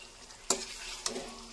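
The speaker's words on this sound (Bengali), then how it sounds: "এইরকম ভাবে একটু নাড়াচাড়া করে নিতে হবে" Mutton is stirred as it fries in a pan, a soft sizzle broken by two sharp scraping strokes of a spoon against the pan.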